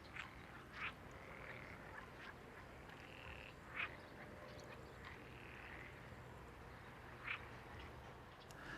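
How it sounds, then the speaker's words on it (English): Frogs croak in loud repeated bursts near a railway line, a few quacking calls standing out over a steady outdoor chorus with no train passing yet. "The sound of croaking frogs greet this pair of Class 663 diesel units"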